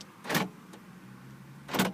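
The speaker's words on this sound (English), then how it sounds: "all the central locking works fine" Two quick mechanical clunks of a BMW 316i SE's central door locks, about a second and a half apart, with a faint click between them in a quiet car interior.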